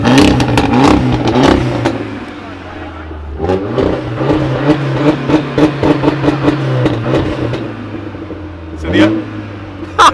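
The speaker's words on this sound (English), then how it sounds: "Are you going to rev it?" An Abarth 124 Spider at a car show has its engine revved repeatedly. Sharp climbs in pitch bounce off the rev limiter with crackles and pops, close and loud, while people chat over it.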